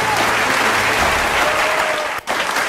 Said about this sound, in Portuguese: Uma salva de palmas para o Fran